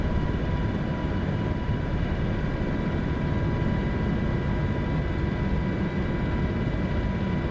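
A helicopter flying over Manhattan in a video game gives a constant dense rotor and engine drone, steady and loud throughout with no voices.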